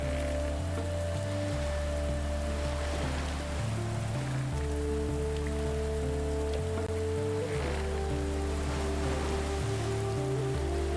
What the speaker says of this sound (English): Navigating through a rain isn't pleasant.